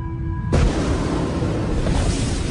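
A supernova shockwave effect: after a half-second hum, a sudden loud blast swells into a thick, roaring rumble that holds steady to the end.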